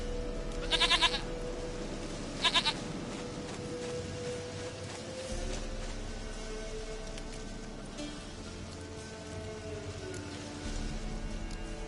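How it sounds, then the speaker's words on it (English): Goat bleating in The Witcher 3, two short bursts of bleats near the start over a steady game ambience with faint rain-like background noise. "Goat of mine, dearest, sweetest goat."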